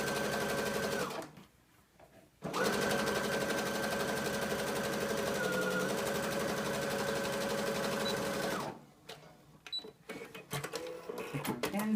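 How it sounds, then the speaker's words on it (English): A sewing machine runs steadily, stitching a 5/8 inch side seam at the armpit of a custom exposed-shoulder jumpsuit, in two long bursts separated by a short pause, then stops into quiet handling noises. "I'm going to go ahead and seam the side at the armpit"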